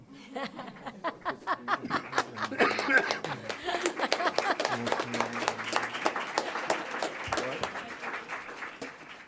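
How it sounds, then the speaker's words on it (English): An audience at a school board meeting applauds, with scattered claps that build into steady clapping, mixed with some chuckling and talk. "They'll eventually clap for you."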